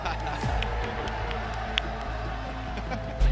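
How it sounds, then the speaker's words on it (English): A large crowd at a Call of Duty esports semifinal cheers and claps in a dense, continuous roar, with an announcer's amplified voice over it. "Make some noise for Clayster, Neptune, HyDra, and Crim!"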